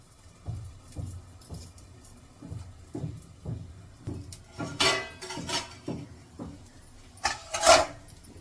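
A metal lid clinks onto a cooking pan during home stovetop cooking, among a run of light rhythmic clatter and scraping of utensils against the cookware, a few sharper clinks standing out.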